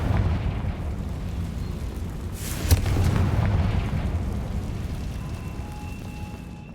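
Confringo explosive spell in Hogwarts Legacy, one sharp burst followed by a deep rumbling blast that slowly fades over low game ambience.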